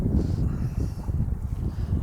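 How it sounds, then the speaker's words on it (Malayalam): Wind buffets the microphone outdoors in Finland near water. It is a steady, low, rumbling rush with no talking. "കാറ്റ് വീശാൻ തുടങ്ങി"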